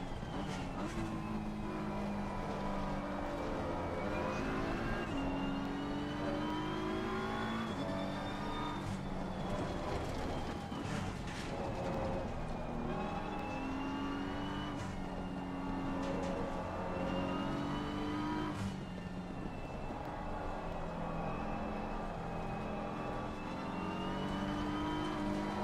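A race car engine at Suzuka in Assetto Corsa Competizione revs and climbs through gears over a long stretch, pitch rising and dropping with each shift, steady and near with no talk.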